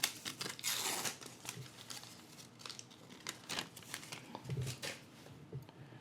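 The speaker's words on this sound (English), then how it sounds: "let's peel this guy off" Protective film peeled off new Nothing Ear (3) earbuds with silicone tips, a close, quiet crinkling and tearing with soft handling rustles throughout.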